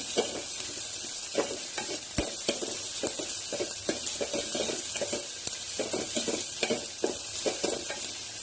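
Finely chopped onions sautéing in a pan for ridge gourd kadaiyal, a steady sizzle broken by frequent scraping stirs of a spatula, close and continuous with no talking.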